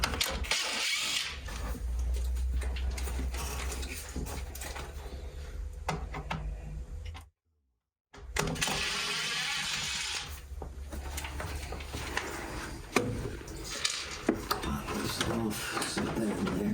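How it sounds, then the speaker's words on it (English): A square-bit screwdriver removing a screw during tub front removal on a Wag'n Tails unit, a steady whirring drive with a ratchety buzz that stops for a moment and then resumes, loud and close. "I'll switch back to a square bit, and then I'm gonna take out the screw"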